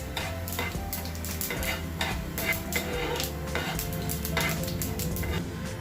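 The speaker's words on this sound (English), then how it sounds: "Add 1 teaspoon of urad dal and stir it and saute it in the pan." Mustard seeds and urad dal sauteing in a pan, a steady soft sizzle with frequent scraping and clinking of a spoon stirring against the metal, close and continuous without speech.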